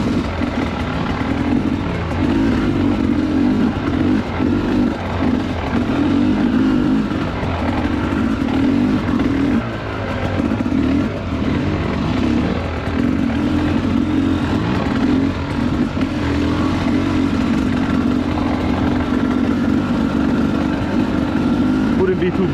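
Dirt bike engine revving continuously on a trail, loud and close with a rough, sustained drone that rises and dips as the throttle changes, over about twenty seconds.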